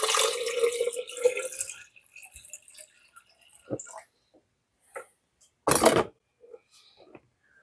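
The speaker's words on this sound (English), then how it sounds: "Water going in." Water pours into the jar of a 1970s Waring blender, model 11-254, with a splashing rush for about two seconds, then scattered soft drips and small knocks, one sharper splash, and quiet gaps.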